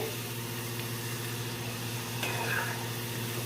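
French fries cook in oil on a low flame, giving a steady, close sizzle with a faint utensil clink or two and no voice.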